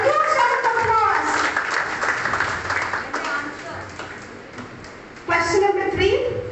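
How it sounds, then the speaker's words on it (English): A school assembly crowd claps and applauds steadily, a dense rush of hand claps that swells, dips slightly, then rises again near the end. "let's have a huge round of applause"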